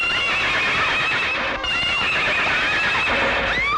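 A horse in a Bollywood film scene whinnies loudly and repeatedly over dense background noise, with hoofbeats clip-clopping beneath, a busy, continuous mix throughout.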